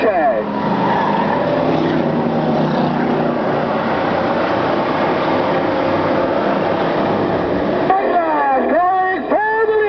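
Trans-Tech Chevrolet race car engine blasting past at a road course race, a loud sustained roar with rising and falling pitch sweeps near the end as cars shift and pass, with announcer commentary over it.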